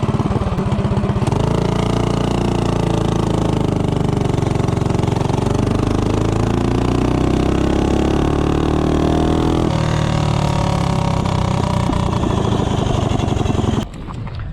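A kart with a Tillotson 212 engine, 5-inch intake and 24 mm flat-slide carburetor accelerates from a stop, its loud buzzing exhaust rising in pitch over several seconds, then cutting off abruptly near the end.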